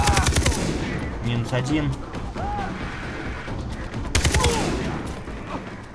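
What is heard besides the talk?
gunfire in the video game Far Cry 3 fighting pirates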